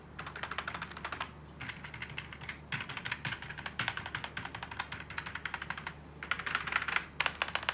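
Rapid typing across the keys of a FANTECH K611 Fighter membrane gaming keyboard, a dense run of close, fairly loud plastic taps with short pauses between bursts, no talking.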